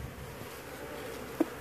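Honeybees hum softly and steadily during a trailer hive removal in Auburndale, Florida, a low even drone with one brief louder burst near the end.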